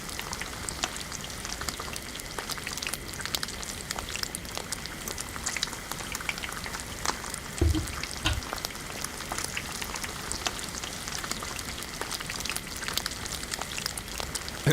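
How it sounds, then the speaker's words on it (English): Food sizzles and crackles steadily in a pan while cooking in the DayZ survival game, a dense continuous frying hiss with brief pops, no voices. "Nothing's making the frying noises."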